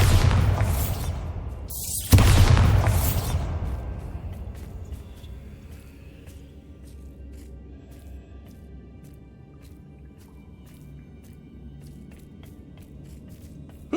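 Bombarda spell blast in Hogwarts Legacy, a loud sharp boom and crashing burst near the start that fades into a long, quieter rumbling tail with faint debris sounds.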